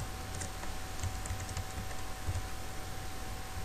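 Keys clatter on a computer keyboard during CNC programming software entry, light irregular clicks over a steady room hum.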